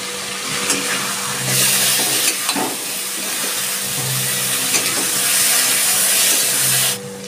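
Pre-fried potatoes go into a cooked spice paste for a katla fish kofta curry. A loud, continuous hiss of hot oil spits and crackles close by, with a faint scrape or two partway through.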